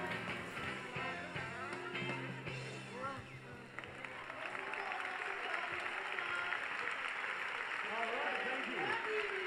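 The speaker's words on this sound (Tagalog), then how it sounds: "Palakpak po, thank you." Applause from family members gathered at a grand family reunion, a soft, continuous patter of clapping beneath talk and background chatter, growing slightly denser toward the end.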